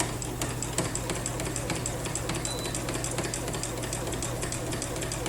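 A sewing machine stitches during free motion quilting, a fast steady close-up whirring and ticking that runs continuously at even volume.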